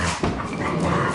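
Collie dog barking and whimpering around a farm workshop where a Fordson Super Major tractor is being worked on, short yelps and whines close by over steady background noise.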